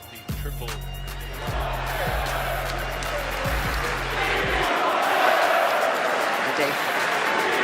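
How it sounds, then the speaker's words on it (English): Philadelphia basketball crowd roaring at an NBA game while a player stands at the free throw line, a loud, sustained wall of arena noise with a deep horn blast in the opening seconds. "Listen to the Philly crowd here at the line."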